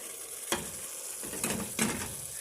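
Ingredients with honey and ground fenugreek are stirred together in a pot, giving a soft continuous hiss broken by a few sharp scraping strokes, close and fairly quiet, with no talking.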